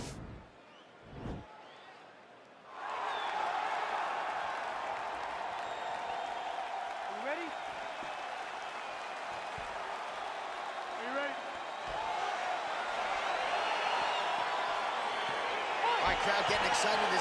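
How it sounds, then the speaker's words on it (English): Arena crowd in EA Sports UFC 4 cheering and applauding steadily for about fifteen seconds at the start of a heavyweight bout, a broad continuous roar that swells slightly near the end, with a commentator talking over it. "Crowd getting excited as this fight gets underway"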